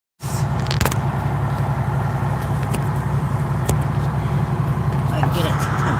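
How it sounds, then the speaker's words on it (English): Truck engine running steadily, with a low continuous rumble and a faint rattle heard close by for the whole stretch after an abrupt start, with no talk over it. "I'll unplug that so y'all can hear the truck noise"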